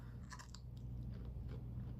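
Crunchy pickled okra being bitten and chewed close up, with several crisp crunches in the first second and softer chewing after, over a steady low hum.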